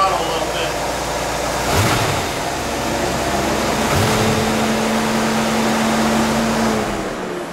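LT1 V8 of a C4 Corvette cranks and fires up quickly, settling into a steady loud idle after a couple of starter attempts, heard close and alone.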